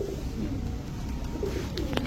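A yellow-faced female pigeon at a bird market gives low, throaty coos, close by over a dense crowd murmur.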